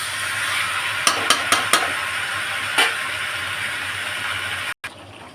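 Meat being stir-fried in a pot, a steady broadband sizzle running throughout with several sharp clinks of a spoon against the pot near the start and one more midway, then a brief dropout near the end.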